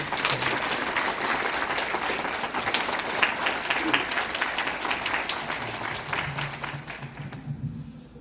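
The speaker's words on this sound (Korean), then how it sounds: "여러분, 우리 네 분에게 큰 박수 한번 부탁드리겠습니다." Sustained audience applause fills a citizens' meeting hall in Pohang, held for the committee reporting on the triggered earthquake. Dense steady clapping runs about eight seconds with faint voices underneath, then fades out abruptly at the end.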